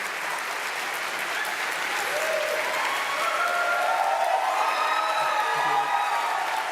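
Debate audience cheering and applauding steadily throughout, a dense wash of clapping with voices and whoops rising over it from the middle onward.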